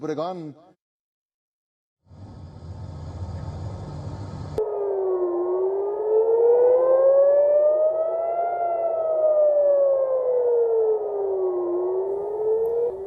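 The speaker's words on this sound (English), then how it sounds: "sirens warning of incoming missiles sounded across much of the country's north and center" An air raid siren in Israel warning of incoming Iranian missiles wails with a slow rising and falling pitch, loud and sustained, following a brief burst of sound and a short silence.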